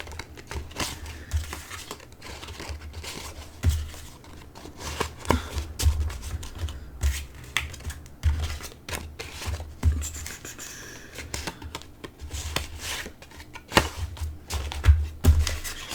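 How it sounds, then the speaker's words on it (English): Tarot cards are shuffled by hand close to the microphone, a steady run of soft papery riffles, slides and taps with irregular louder snaps, no talking heard. "Sorry to bore you with the shuffling"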